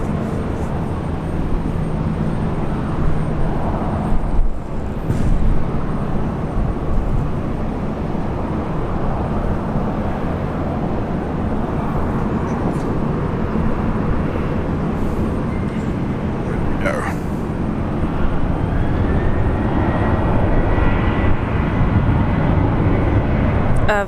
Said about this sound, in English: Virgin Australia 474 rolling now, heading off to Perth.